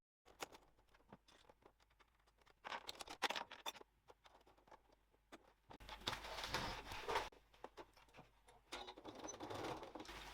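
Quiet clicks, scratches and small plastic-and-metal snaps as the presser foot is swapped on a sewing machine, coming in faint scattered bursts with a busier rattling stretch midway.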